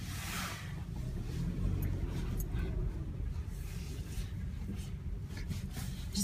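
Car rolling slowly along snowy roads after a blizzard in Bristol, Rhode Island, with a steady low engine rumble and muffled tire noise heard from inside the cabin.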